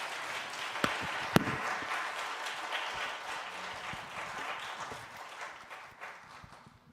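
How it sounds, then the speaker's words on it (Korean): A church congregation applauds warmly to welcome a missionary speaker, steady clapping filling the room for several seconds before gradually tapering off. "박수로 한번 힘차게 좀 맞이해 주십시오"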